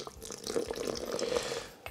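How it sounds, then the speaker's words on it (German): Water is poured into a blender of vegan spread, giving a faint, trickling liquid sound with soft burbling and dripping over about two seconds, quiet and without talk. "geben wir noch mal etwas Wasser dazu."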